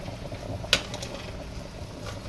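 Yam boils in a pot with a soft, low bubbling simmer, and a single sharp clink of metal lands early on.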